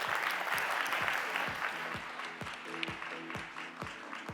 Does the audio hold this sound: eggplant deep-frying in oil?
no